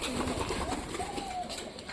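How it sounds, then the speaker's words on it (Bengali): Black and white pigeons kept at home coo softly in overlapping, murmuring calls close by, with a faint hiss of background noise. "এই কর্নারে তো সব কটা কালো পায়রা মোটা রয়েছে"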